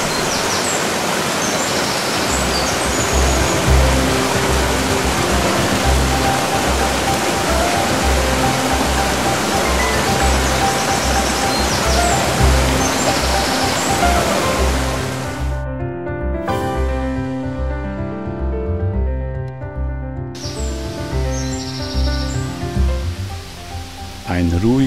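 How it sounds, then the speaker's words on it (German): A mountain stream rushes loudly over stones in the Gregnitz valley, a steady dense roar of water that fills the whole clip without a break. "am Bach entlang, wo das Wasser tosend über die Steine rauscht"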